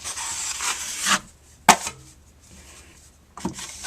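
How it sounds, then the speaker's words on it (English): A 10-inch drywall knife scrapes joint compound across a wall in a few separate rasping strokes, close and fairly quiet, with pauses between passes. "So now I just want to wipe it down with my 10-inch knife"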